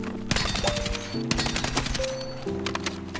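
Slow, measured gunfire in a shooter game, a handful of loud separate shots with short pauses between them, heard close and alone over a steady background hum.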